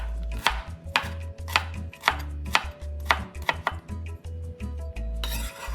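Knife chopping a red onion on a cutting board into small pieces, a quick series of sharp, close taps with uneven rhythm, heard alone.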